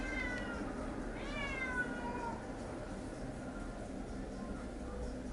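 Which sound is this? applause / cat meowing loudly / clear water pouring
cat meowing loudly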